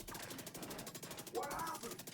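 Rapid automatic gunfire in The Division 2, heard faintly at a distance as steady repeating shots, with a muffled game voice breaking in partway through.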